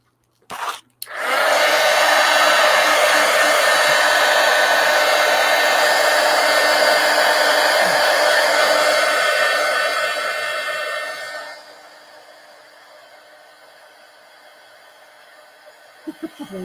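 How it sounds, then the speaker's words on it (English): A heat gun roars on loudly for about ten seconds as it blows across a mixed media collage, then fades and winds down to a low whir, with a few faint handling clicks at the end. "Let's hit this with the heat gun."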